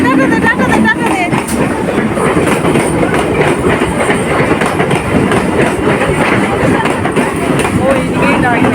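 A train runs close by with steady rumbling and rhythmic clickety-clack of wheels on rails, loud throughout, while people talk over it.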